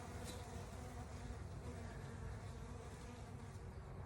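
Honeybees hum inside a hive as frames are opened, a dense continuous buzzing drone from many bees close by, steady in level with no voices.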